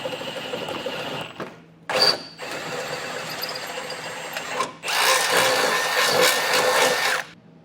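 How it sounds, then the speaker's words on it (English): A power drill bores through sheet metal on a 2017 Ford Explorer, whining in several bursts: a short run, a brief stop, a longer grinding stretch, then a final loud, steady push before it cuts off. "side support now as a template to drill through this piece of sheet metal"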